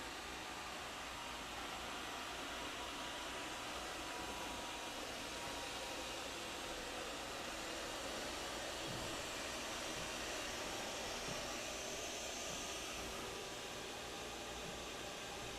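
An eufy S1 Pro robot vacuum runs with a steady broadband whirring hiss as it heads back to its base station, even and continuous throughout, fairly close, with no talking.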